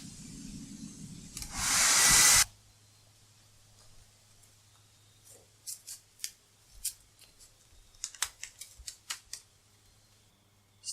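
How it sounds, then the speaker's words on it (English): A loud, steady rush of air from a hair dryer blowing on coals lasting a couple of seconds, then quieter clicks and scraping taps follow. "Use a hair dryer."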